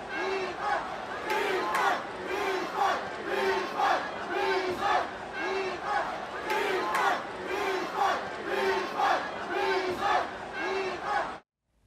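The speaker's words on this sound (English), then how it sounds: "They started chanting refund during the match." Hong Kong football crowd at an Inter Miami match, a huge stadium mass chanting 'refund' in a steady, repeated rhythm, loud and continuous until it cuts off abruptly.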